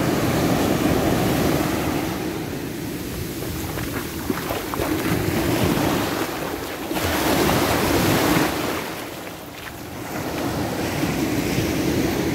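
Ocean surf rolling onto the beach at Maspalomas, Gran Canaria, a continuous broad wash of waves swelling and receding in slow surges, with wind buffeting the microphone and no talking.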